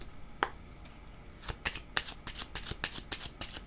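A deck of cards is shuffled nearby during a card reading, a quiet run of sharp riffling snaps and flicks in irregular bursts, heard alone without voices.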